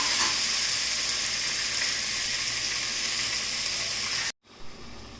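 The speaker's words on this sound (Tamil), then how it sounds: "பெரிய வெங்காயம் கொஞ்சம் நல்லா பொன்னிறமாக வதங்கட்டும்." Large onions sauté in a pan until golden for chicken curry, giving a loud, continuous hissing sizzle that cuts off abruptly near the end and returns quieter.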